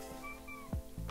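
A single short meow from a cat sounds close by in a quiet room, followed by a brief low thump.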